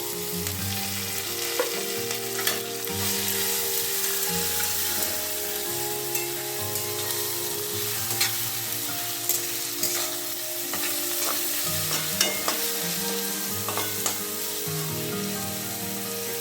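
Garlic and grated onion frying in oil, a continuous close sizzle with stirring, heard under steady background music throughout.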